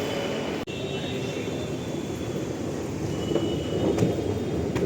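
A Mumbai Metro train rumbles at Andheri West station, a steady mechanical drone in a crowded, echoing space, with a sharp click early on and the roar swelling slightly toward the end.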